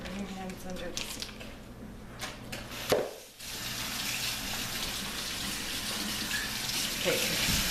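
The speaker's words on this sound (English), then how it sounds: "Bring your hands under the sink." Water running from a kitchen sink tap for hand washing while baking cookies, a steady close rush that starts partway through and keeps going, with talking over the first part.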